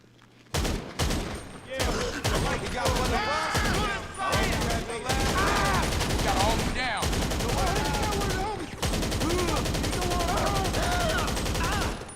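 Sustained bursts of automatic gunfire from a magazine dump in GTA 5 Online, loud and dense, with rapid shots running almost continuously for about eleven seconds under game effects.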